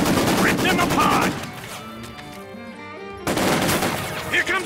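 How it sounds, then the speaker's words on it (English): Machine gun fire in Company of Heroes 2, a dense burst of rapid shots with a shouted voice over it, then a brief quieter lull, then the gunfire and battle noise return at full loudness. "MG! Rip them apart!"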